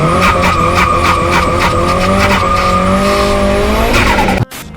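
Big-turbo Nissan S15 drifting with loud, sustained tire squeal over a revving engine, the screech rising and wavering for several seconds before cutting off abruptly.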